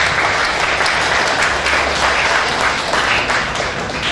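A seminar audience gives a speaker a sustained round of applause, dense steady clapping that holds at even loudness from start to finish.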